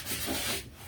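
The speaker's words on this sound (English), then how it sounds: "I don't know if I'll be able to get it off with this terrible sanding block." A sanding block rubs back and forth over the painted back of a wooden sign, giving a short, close, loud gritty scraping stroke that fades toward the end.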